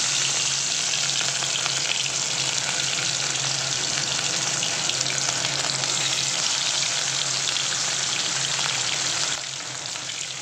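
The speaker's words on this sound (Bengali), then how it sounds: "আর গরম তেলের মধ্যে দেখো মাছগুলোকে আমি এখন ভেজে নিচ্ছি।" Pieces of fish sizzle steadily in hot oil for a Bengali jhinge-aloo fish curry, a loud, dense, continuous crackle up close that drops slightly just before the end.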